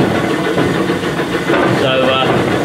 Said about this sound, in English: Sounds like the gear mesh isn't as good as it should be.